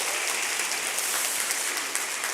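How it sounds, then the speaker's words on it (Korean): A church congregation applauds in welcome during a Sunday service, a dense, steady wash of many hands clapping together, filling the room evenly for a couple of seconds. "앞에 환영의 박수."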